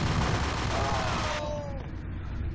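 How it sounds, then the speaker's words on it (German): Sustained gunfire in the Max Payne game, a dense loud rattle of shots running throughout, with a whining ricochet-like tone partway through and the clatter thinning slightly toward the end. "Dauerfeuer"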